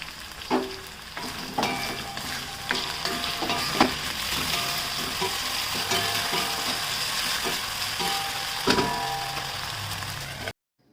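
Potatoes fry in oil in a pan, loud and close, with a continuous sizzle broken by repeated scrapes and clatters of a spoon stirring against the metal. The sound stops abruptly at the end, and no one speaks.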